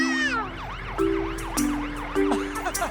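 Cartoon fire engine siren in a French children's nursery-rhyme animation, a bright wailing tone rising and falling in repeated sweeps over a steady horn-like note, loud and close, with brief clanks and no talking.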